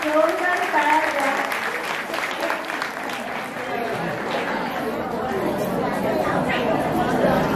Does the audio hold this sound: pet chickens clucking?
no